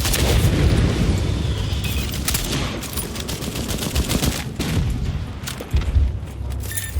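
Explosions and rapid gunfire in ARK Survival Evolved: deep booms and bursts of shots roll over one another in a loud, continuous barrage, with no speech.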